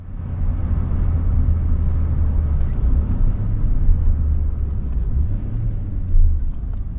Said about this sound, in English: Driving the 1988 Honda Accord.